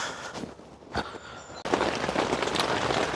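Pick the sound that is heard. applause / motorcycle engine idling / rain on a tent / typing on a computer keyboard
rain on a tent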